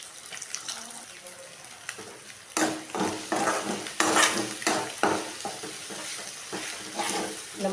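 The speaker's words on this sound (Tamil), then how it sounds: "முட்டைக்கு போட்டு கிண்டிக்கலாம்" Rapid scraping and clattering of a utensil stirring egg in a pan for chicken fried rice, with a light sizzle and watery hiss, busy and fairly close.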